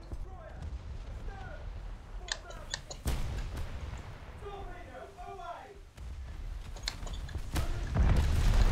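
Ship deck cannons fire during a naval battle in War Thunder, several heavy booms at irregular intervals over rumbling game noise while a person talks.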